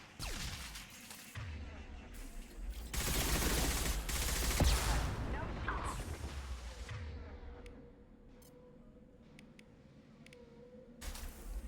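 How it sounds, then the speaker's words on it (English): Shotgun blasts and heavy gunfire from a firefight in the video game Mass Effect 2, a dense loud stretch of booming shots in the first half, then quieter scattered shots over a low droning hum. "Shotgun!"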